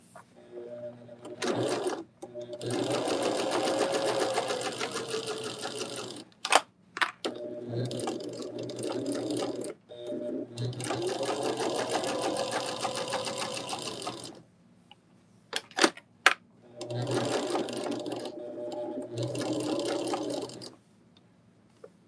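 Stitching a quarter-inch seam on a quilt block, a sewing machine whirs in three or four long, steady bursts. Short pauses between them carry clicks and handling noises of fabric being adjusted, all close by.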